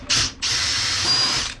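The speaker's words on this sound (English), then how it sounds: "We're only going to use the drill part of the hole saw just to get started." A power drill spins the pilot bit of a hole saw as it starts a cut into yellow cedar on a wooden boat, two close whirring bursts, a short one then a longer steady run.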